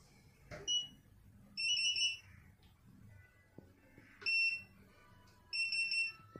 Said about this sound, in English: So you can hear the beep sound